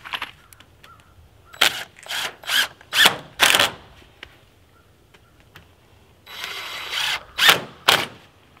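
A power drill drives screws with washers through a tarp into a 2x4 while pig shelters are built, giving a series of short whirring bursts, then a longer burst and two more, close and loud with no talk.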